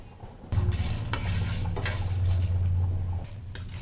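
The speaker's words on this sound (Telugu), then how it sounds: "ఆరు ఎండుమిర్చి వెల్లుల్లి రెబ్బలండి రెండు ఇలాచీలు రెండు లవంగాలు కొంచెం దాల్చిన చెక్క అండి కొంచెం జీలకర్ర కొంచెం ధనియాలు వీటన్నిటిని డ్రైగా ఒకసారి వేపుకుందాం" Dry red chilies, garlic cloves, cardamom, cloves, cinnamon, cumin and coriander seeds tossed in a dry pan, with scraping stirs and rattling spices over a low rumble, close and busy for a few seconds.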